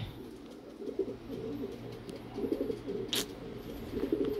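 Pigeons cooing in soft, repeated low calls, fairly faint and steady over background hum, with one brief sharp noise partway through.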